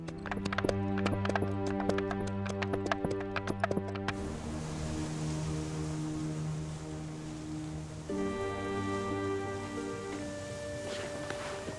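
Cartoon horse hooves clip-clop in a steady trotting rhythm over background music, with a horse whinny amid the score; the hoofbeats are clearest in the first few seconds.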